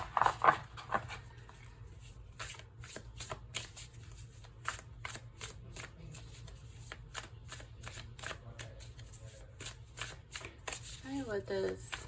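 Tarot cards are shuffled in quick papery riffles and taps, repeating in close bursts while a person talks quietly at points.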